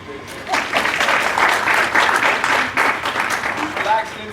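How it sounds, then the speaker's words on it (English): Audience applause at a student leadership academy winter workshop, a steady wash of clapping that swells after half a second and holds loud and dense for about four seconds, with brief voices mixed in. "Bring your round of applause for Jason."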